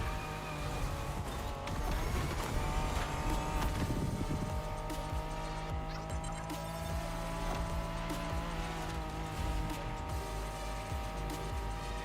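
A Liberty Walk NSX engine drones steadily through The Crew Motorfest, holding a continuous revving tone with slight pitch shifts and faint mechanical clatter, moderately loud and unbroken throughout.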